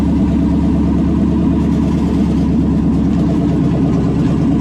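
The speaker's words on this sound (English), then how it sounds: "It's idling really nice." A 1972 Chevrolet K20 4x4 truck engine idles steadily up close, a deep continuous rumble with a regular low pulsing and no voices.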